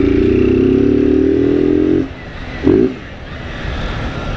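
A Honda Fan 160 motorcycle engine holds a loud, steady rev for about two seconds, then drops off, with a brief blip of throttle afterward. The sound is close, with no talking.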